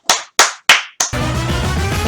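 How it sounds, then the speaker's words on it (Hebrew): Four crisp, evenly spaced hand claps snap out close by during a lighthearted sung performance, then give way to a dense, continuous wash of sound. "עכשיו כולם למחוא כפיים"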